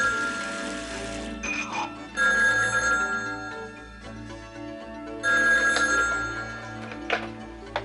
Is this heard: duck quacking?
no